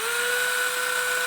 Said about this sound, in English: Let's try drilling a hole in the box.